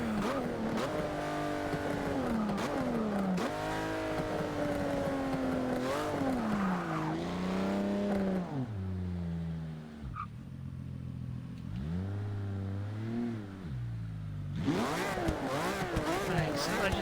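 Race car engine in Forza Motorsport 6 revs repeatedly at a track starting grid, pitch sweeping up and down in loud rising and falling bursts with a brief dip, steady and close; a voice talks over parts of it.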